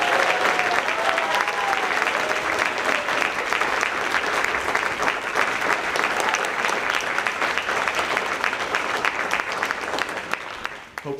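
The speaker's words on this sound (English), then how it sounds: "Can we give them one more huge round of applause?" Loud, sustained applause from a large audience after a third-grade recorder concert, dense steady clapping filling the whole stretch before tapering slightly at the end.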